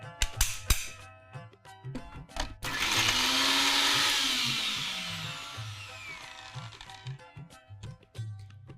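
A kitchen blender whirs loudly for several seconds, its motor pitch rising and settling, with clattering and knocks before and after.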